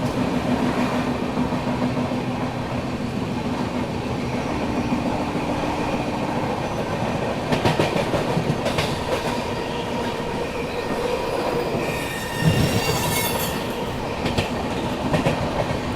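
The Pataliputra–Mumbai Superfast Express rumbles steadily into platform 3 of an Indian railway station with rhythmic clattering wheels and a brief metallic squeal, loud and close, with no voices.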